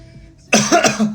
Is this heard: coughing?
yes